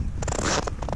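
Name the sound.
footsteps squeaking on very cold snow on a frozen lake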